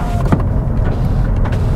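Power windows of a Mercedes C-Class estate running, a close, steady electric motor whine inside the car with small clicks and bumps as the glass moves.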